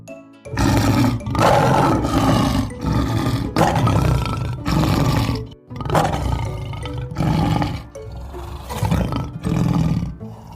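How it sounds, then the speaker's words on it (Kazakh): A lion lets out a series of deep, loud, rumbling roars in repeated bursts separated by short pauses, close and powerful throughout. "Бұл арыстан. Арыстан. Арр. Арр. Дейді."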